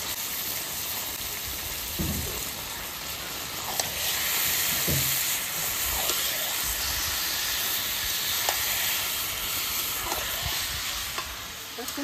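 Chicken frying in a spiced masala, a loud, continuous close-up sizzle with occasional bursts of louder crackling and stirring thuds, with a steady high hiss running underneath and no talking.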